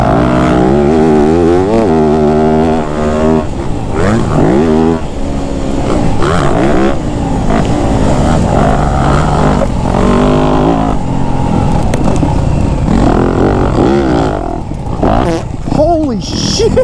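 A dirt bike ridden off-road, its engine loud and close, revving up and down continuously with rising and falling pitch throughout, with a voice breaking in at moments.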